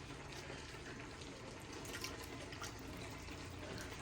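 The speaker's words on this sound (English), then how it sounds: "I'm going to go ahead and just add the milk now" Milk is poured into a pan of homemade queso cheese dip, a faint steady liquid trickle lasting several seconds against a soft hiss.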